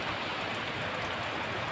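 Heavy rain falls outside a window, a continuous, uniform wash of pattering water, moderately loud and unbroken across the brief stretch, with nobody talking.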